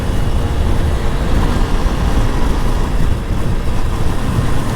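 Motorcycle cruising along Mawa road, steady low engine drone and wind rumble filling the whole stretch, constant and fairly loud with no pauses or voices.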